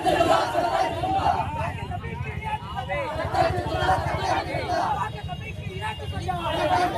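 A crowd of children on a protest march chants communal slogans in rhythmic unison, with loud overlapping voices and street noise throughout.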